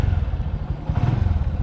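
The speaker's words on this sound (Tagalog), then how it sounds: "Sakay po tayo ng motor." Motorcycle ride getting underway, with the engine's low rumble running steadily close up and mixed with clattering and thumping from the bike.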